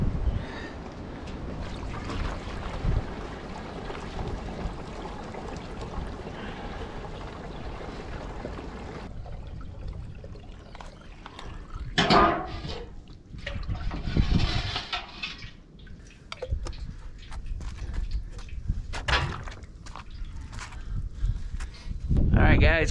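Water trickles and splashes from a gravity-feed outdoor shower at an off-grid cabin on a cold, windy day, a steady wash for several seconds, then thinner intermittent splashes, with people talking throughout.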